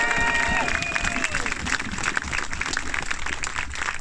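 A small outdoor protest crowd near an airport claps for themselves, steady applause mixed with cheers and a few voices carrying over it for the full stretch.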